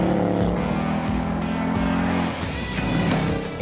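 A Ford Mustang V8 breathing through a GT350 air intake roars loudly up close, a deep throbbing engine note that rises and shifts as the revs change, with no talking.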